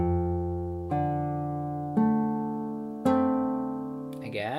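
Fingerstyle acoustic guitar picks a short phrase, moving from the 6th string to the open 4th, 3rd and 2nd strings: four evenly spaced plucked notes ring out and decay, with a brief shuffle at the end.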